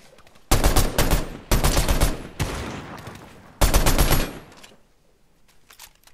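Gunfire in a Fortnite Duo Cash Cup match: four loud, close bursts of rapid shots, separated by short gaps, then a few faint scattered shots trailing off.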